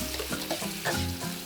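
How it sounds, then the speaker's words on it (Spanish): Paprika sizzles in hot oil in a paella pan while being stirred, a steady close frying hiss broken by scraping stir strokes, with no voices. "Removemos porque el pimentón se quema muy rápido"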